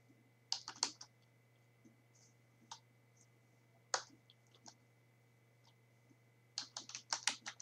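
Computer keyboard typing while a FORTRAN program is entered: short bursts of crisp key clicks separated by pauses, quiet and close, with a steady low hum underneath.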